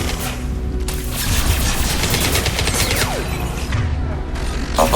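Sustained gunfire in Mass Effect 2 Legendary Edition combat, rapid shots and bursts layered with mechanical clatter and booms, loud and continuous throughout.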